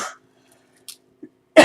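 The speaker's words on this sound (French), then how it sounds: "Donc je tousse un peu." A single short cough bursts out near the mic at the end, after a faint breath and a couple of tiny throat sounds in near silence.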